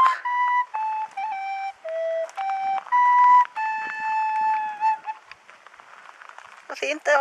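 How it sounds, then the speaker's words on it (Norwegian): A flute played outdoors on a spring evening, a slow melody of clear sustained notes separated by short breaths, near and fairly loud, fading out toward the end before a brief burst of other sound. "spiller på fløyta"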